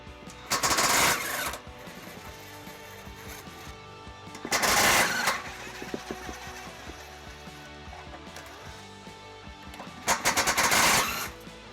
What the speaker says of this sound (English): We'll use the deep well sockets to remove those.